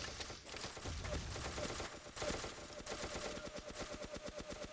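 Rapid SMG fire in the blocky multiplayer shooter Ace of Spades, starting as scattered shots and settling into a steady, fast automatic rhythm of sharp, fairly loud cracks.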